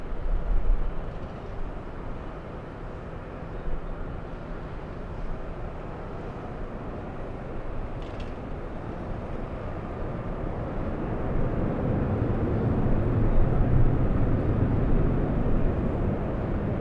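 A jet airliner takes off from runway 24 left at LAX. Its broad, steady roar swells and grows louder toward the end, with no talk over it.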